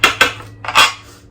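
A knife works through butter swim biscuits in a pan, giving a few sharp metallic scrapes and taps against the pan in two quick pairs, close and fairly loud.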